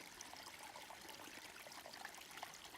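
A small snowmelt tributary stream trickles steadily on its way into a river, a soft, continuous babble that stays even and close with no voices.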